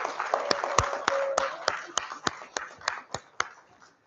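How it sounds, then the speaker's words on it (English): Scattered handclaps from a small audience applauding contestants at a birding talk, about a dozen sharp, uneven claps over a few seconds, fading toward the end. "Let's give all of our contestants a round of applause."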